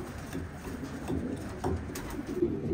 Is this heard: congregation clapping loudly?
no